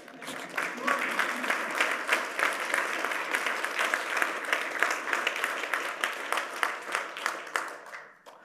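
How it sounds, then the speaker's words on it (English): Sustained audience applause at a tech company's opening keynote, dense steady clapping from a large crowd lasting several seconds before tapering off at the end. "You can clap at that."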